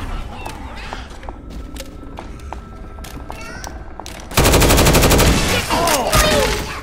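Assault rifle gunfire in the video game Left 4 Dead 2, a sudden loud burst of rapid automatic shots after quieter game sounds, continuing for a couple of seconds.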